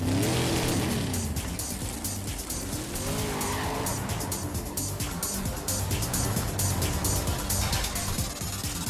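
Car in a GTA video game revving hard with screeching tire squeals and skidding, loud and busy, the engine pitch sweeping up and down over dense crunching game noise.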